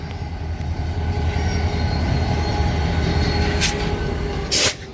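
A BNSF lumber train on the Lafayette Branch rolls steadily past a railroad crossing, loud and close, with continuous wheel rumble, rail rattle and brief high squeals near the end.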